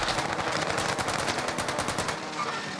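Rapid automatic gunfire from incendiary rounds in Warzone, a close, steady stream of shots that stops abruptly near the end.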